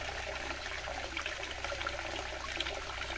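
Water runs steadily from a village fountain in Dalca on a countryside walk, a continuous close splashing and trickling stream with no talk over it.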